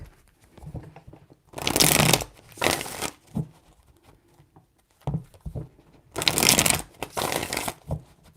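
A deck of tarot cards is riffled and shuffled in close, crisp bursts with brief pauses between them, each burst lasting about a second or two.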